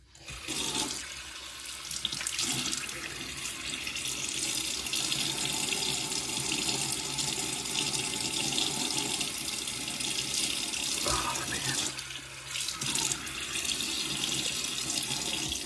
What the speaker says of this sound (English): Let me get my face wet.